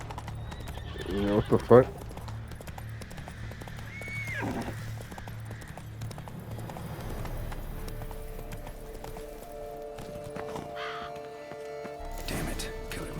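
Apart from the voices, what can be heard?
horse galloping in The Witcher 3 video game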